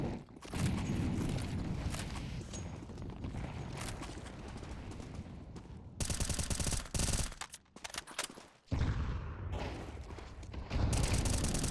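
Rifle spray from Counter-Strike on the Dust2 map, dense rapid bursts of automatic fire close and loud, broken by short pauses and quieter gaps, with several sustained strings of shots.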